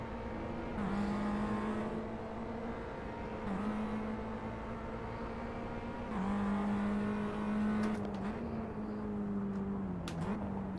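Renault Clio Cup race car in Assetto Corsa holding a steady, loud engine drone with gear-change dips and rising revs as it accelerates, with a brief tyre squeal near the end.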